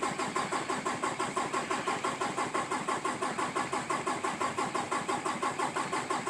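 A 2018 Peterbilt 579 truck engine cranks during a very hard start, the starter churning in a fast, even, rhythmic chug that continues unbroken without catching, with no one talking.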